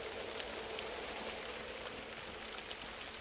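Rain falls steadily, a dense even hiss of drops with occasional louder patters on a surface, no voices.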